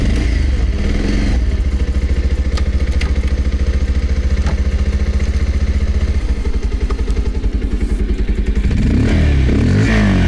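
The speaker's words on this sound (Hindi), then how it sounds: "अभी मैं आपको इसका साउंड सुना देता हूँ कि इसका एग्जॉस्ट साउंड कैसा है" A 2021 Bajaj Pulsar 125 BS6 motorcycle starts up and its exhaust settles into a steady, close, loud idle with a rapid even pulse, changing briefly near the end.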